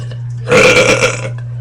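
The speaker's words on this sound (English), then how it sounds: "I'm gonna make another burping video" One long, loud, close burp after eating cinnamon buns, rising abruptly and rolling for nearly a second before trailing off.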